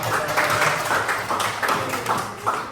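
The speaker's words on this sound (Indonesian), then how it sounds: "Tepuk tangan semuanya" Classroom applause from children in an Indonesian school lesson, a lively burst of many small hands clapping unevenly together, fairly close and sustained for a few seconds.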